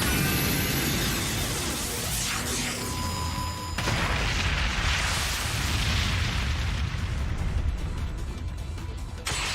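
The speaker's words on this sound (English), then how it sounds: "Galactic cannon, fire!" Galactic cannon in the Trails of Cold Steel II video game firing: a rising mechanical charge-up gives way to a sustained roaring blast and rumbling explosion, loud and dense throughout with no talk.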